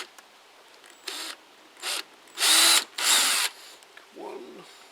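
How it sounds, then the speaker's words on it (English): A power drill whirs in several short bursts, drilling holes in a motorcycle top box, starting and stopping, the two middle runs longest and loudest, close by with quiet gaps between. "you're drilling holes in your top box"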